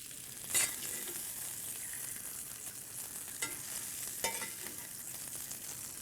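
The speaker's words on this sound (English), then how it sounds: "The andouille is starting to shrivel a little bit. I'm getting some nice color and a sear." Andouille sausage searing in a hot pan, giving a steady, close crackling sizzle with a few brief louder pops and scrapes as it is stirred. No one talks.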